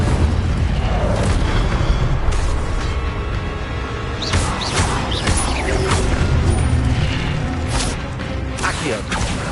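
Spell effects from the video game Hogwarts Legacy, including the Incendio fire spell, cast in rapid succession: a dense stream of booms, crackling bursts and sharp impacts running continuously throughout, with occasional speech mixed in.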